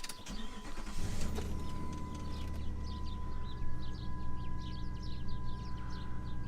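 A 2002 Jeep Overland starts up: after a short crank the engine catches about a second in and settles into a steady, low, rumbling idle. Faint birds chirp in the background.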